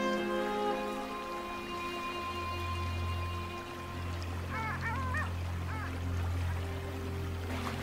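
Waterfowl honk in short repeated bursts from a few metres away, over a flowing stream and a low steady hum in the background.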